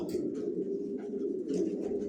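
Racing pigeons coo steadily in a loft, a low continuous murmur of several birds with soft overlapping calls throughout.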